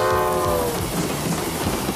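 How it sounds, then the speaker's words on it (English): A train passes nearby, its horn sounding briefly at the start and fading into a low rumbling roll of wheels on the track. "And there goes a train."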